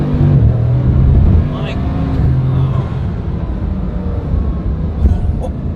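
A Ferrari F40 drives on cold tires, its engine note loud and steady, with a short surge of acceleration near the start and then easing. Voices talk over the engine throughout.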